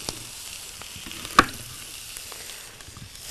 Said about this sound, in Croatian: Ja sam ražnjiće stavila. I sada ide da se prži.